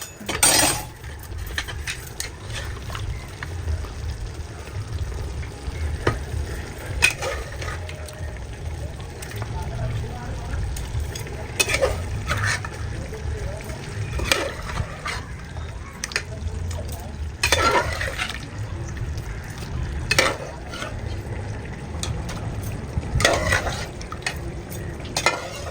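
Mutton fries and sizzles in a pot while a spoon stirs it, scraping and clinking against the metal in irregular strokes over a steady sizzle, with people talking throughout.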